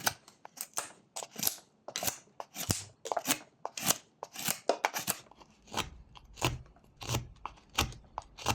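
A knife whittles thin slices off a small wooden tortoise carving, producing sharp, close scraping cuts in an irregular rhythm, each a short crisp shave, with no talk.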